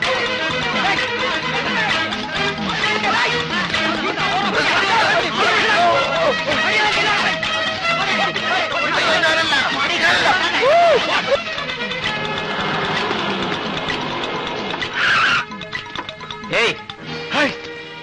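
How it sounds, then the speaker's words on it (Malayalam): A dense, loud commotion of many overlapping voices shouting and calling out at once, with a few sharp cries near the end. "എന്താ അവിടെ ഒരു ബഹളം?"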